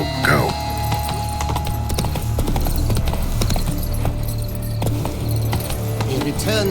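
Hooves clip-clop steadily as a horse gallops in The Witcher 3: Blood and Wine, a rapid, close rhythmic drumming that continues throughout with faint voices and background sounds.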